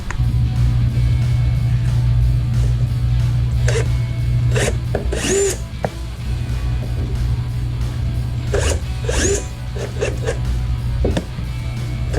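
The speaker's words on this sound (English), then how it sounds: "Now I just gotta turn the screws on the bottom." A power drill drives screws into the underside of a gloss black Evo style side skirt on a 2010-2015 Chevrolet Camaro. Several short whirring bursts stand out over a constant loud background hum, with no speech.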